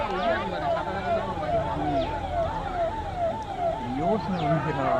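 A forest department's wailing emergency siren sweeps up and down repeatedly, loud and close, near a wild elephant at Palar Porunthalar Dam, with a murmur of crowd noise and chatter underneath.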